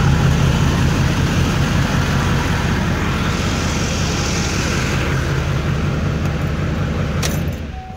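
A diesel truck engine with a CP4 injection pump runs after a FASS Titanium fuel filter replacement, idling loud and close as a steady, dense rumble before cutting off near the end.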